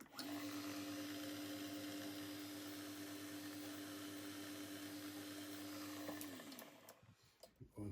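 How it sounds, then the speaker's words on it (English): A drill bores a 1/8 inch hole through a small engine exhaust valve rocker arm, giving a steady, fairly quiet whine for about six seconds before spinning down and stopping, followed by a few faint clicks. "Going through there with a 1/8 inch hole."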